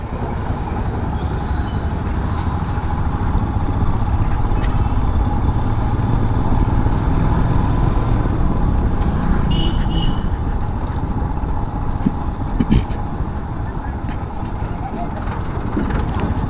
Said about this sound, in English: The traffic is again high.